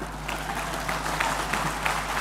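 An audience applauds the Bank Indonesia governor at a formal event: a scattered patter of claps from a crowd, moderately loud over a steady low hum, lasting a couple of seconds.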